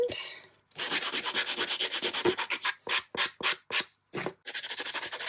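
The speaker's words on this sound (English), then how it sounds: "Just give her a little sand." Sandpaper rubbed over the cover of an altered book in quick back-and-forth strokes, steady at first, then breaking into short separate swipes, close and fairly quiet.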